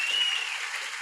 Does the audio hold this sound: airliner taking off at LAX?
no